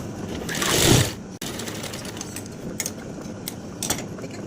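A sewing machine stitches pant fabric, a close whirring rattle that swells at the start, then a softer mechanical run broken by a few light clicks.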